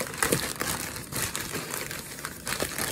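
Plastic packaging crinkles and rustles close up while a 4mm heavy link chain is unboxed, an irregular series of crisp crackles with no speech.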